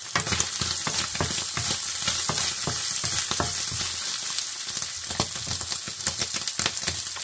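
Chopped onion and fresh garlic frying in a lidded home cooking appliance, a steady dense sizzle with crackling pops and occasional stirring clicks, loud and close throughout with no talking.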